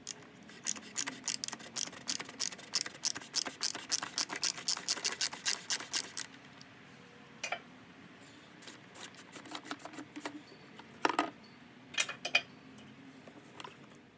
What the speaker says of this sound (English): so we got the oil filter off